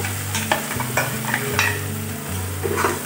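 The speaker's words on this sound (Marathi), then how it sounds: "आणि फ्राई करून घेऊया मस्त." Besan batter sizzles steadily in a hot pan while a spoon scrapes and stirs it in repeated strokes, close and clear, with no talking.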